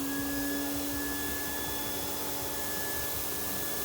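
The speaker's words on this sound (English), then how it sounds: "Vacuum is holding it down." Suction motor of a screen printing vacuum table holding black paper flat, a constant loud whooshing roar with a steady tonal hum running throughout.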